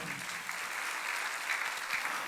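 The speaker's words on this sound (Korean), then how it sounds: "믿으면 박수야" Church congregation bursts into sustained, dense applause during a Sunday worship service, a steady wash of many hands clapping at once that holds level throughout.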